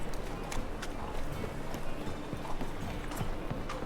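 Horse hooves galloping in The Witcher 3, a fast steady run of clip-clop beats at close range, moderately quiet, with no talking.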